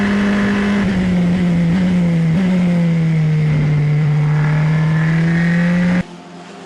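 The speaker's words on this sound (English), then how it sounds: "Here's Quinn in the 21 nearest to us, trying to go round the outside there of Ten Brink." Formula Regional race cars at Paul Ricard scream past at high revs, a loud sustained engine drone shifting pitch as they battle side by side, cutting off abruptly near the end.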